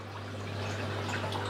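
An Aqua NoVa NCF 2000 external aquarium filter runs steadily, its water flowing with a soft continuous rush and trickle under a constant low mains hum, close and fairly quiet.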